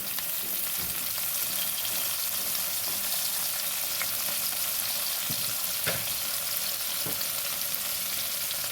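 Thinly cut vegetables fry in a pan with turmeric in a steady, close, crackling sizzle, with a few soft clinks and stirring scrapes and no talking.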